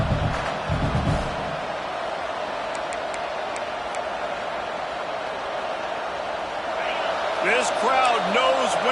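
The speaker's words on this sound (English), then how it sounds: "This crowd knows when to bring it." A college football stadium crowd at Michigan versus Notre Dame roars in a broad sustained wash of cheering that swells toward the end, while a commentator talks over it at the start and again near the finish.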